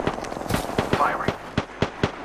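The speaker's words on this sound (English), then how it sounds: "Firing." Sharp gunshots from Apex Legends fired at a distant enemy, about eight evenly spaced cracks over two seconds with a steady rhythm, loud and close over faint background game noise.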